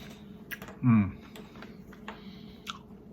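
Crunchy frosted circus animal cookies being chewed up close, a few sharp crunchy bites with one louder chomp, then quieter clicky chewing and faint mouth sounds.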